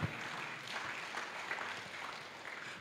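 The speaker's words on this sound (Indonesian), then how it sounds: "Berikan tepukan untuk Tuhan." A church congregation clapping for God during a sermon, a steady wash of applause at moderate volume, fairly distant and lasting the full stretch without talk.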